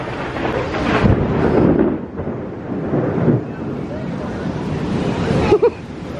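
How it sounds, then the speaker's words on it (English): Heavy rain pours down during a thunderstorm in Orlando, Florida, a steady loud wash of noise with gusty surges and a few sharper knocks, while people talk over it. "It's pouring now."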